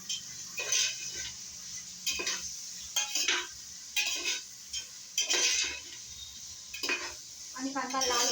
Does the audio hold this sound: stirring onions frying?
yes